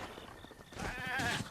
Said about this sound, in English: Hello, little goat.